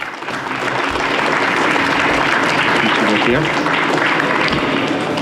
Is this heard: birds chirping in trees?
no